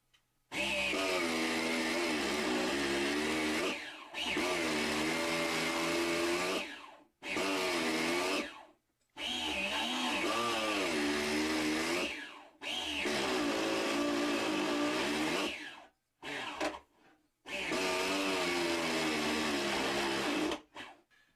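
A Kyosho multi starter box 2.0 turning over a 1/7 scale nitro engine gives a loud, whining, stressed mechanical drone in repeated bursts of a few seconds each, straining and wavering in pitch, with short silent gaps between.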